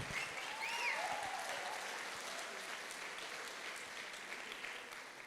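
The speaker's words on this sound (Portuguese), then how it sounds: "salva de palmas para Jesus, 230 jovens." A gathering of young people in a Portuguese-speaking church applauding Jesus: a steady sheet of clapping from a large group, strongest early and easing slightly, with a few faint cheers and whoops near the start.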